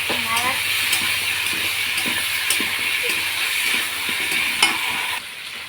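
Meat and potatoes with a little chilli powder fry loudly in a pan while a spatula stirs them, producing a dense continuous sizzle marked by repeated scraping knocks.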